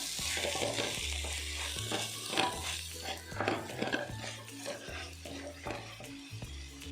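A mashed potato mixture is stirred in a frying pan on the stove for a vegetable cutlet, with steady scraping and stirring over a soft sizzle and occasional utensil clinks, close and continuous.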